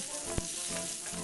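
Lady's finger masala gravy base with chili powder, salt and turmeric sizzles and fries steadily in a pan, with a brief stir or scrape partway through; no talking.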